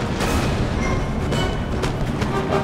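Artillery shells explode in a Napoleon Total War battle, a dense, continuous rumble of booms and crackling blasts at steady loudness with no clear gaps.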